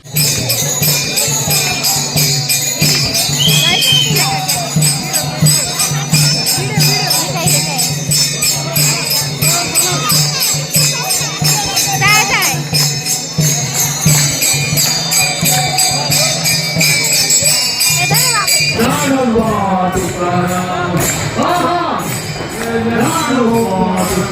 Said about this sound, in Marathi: पालखीची भरपूर गर्दी असते